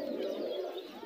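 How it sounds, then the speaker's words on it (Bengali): Two pairs of fancy pigeons, Jacobin and Lakha, coo in a low, continuous murmur at a pigeon market, fairly soft and close. "আপনারা আমার সামনে দেখতে পাচ্ছেন দুই জোড়া ফেন্সি কবুতর, এক জোড়ার নাম হচ্ছে জেকোবিন আর এক জোড়ার নাম হচ্ছে লক্ষা"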